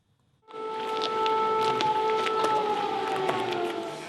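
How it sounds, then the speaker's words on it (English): An air raid siren wailing across Kyiv during a massive drone and missile attack, starting abruptly then holding a steady, sustained tone that carries from a distance without pause. "the air raid siren rang out across Kyiv"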